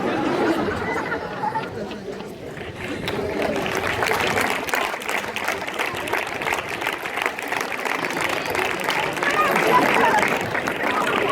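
A festival crowd applauds a village festival opening speech in Villaescusa de Haro, 2016. Dense, sustained clapping swells and holds throughout, with murmuring voices mixed in.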